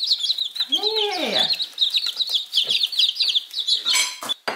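Young chicks chirp in a steady, high, rapid stream, close and continuous, with soft clucking and a brief kitchen clatter of dishes underneath.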